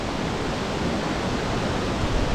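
The Tad Sieng Lue waterfall in Laos, dropping about 100 metres, roars loudly and steadily throughout, a dense, constant rush of falling water with no pauses or other sounds.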